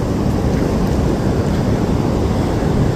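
Ocean waves crash and surge against a damaged, partly collapsed pier at Rosarito Beach, a loud, continuous roar of surf with heavy wind rumble close to the microphone.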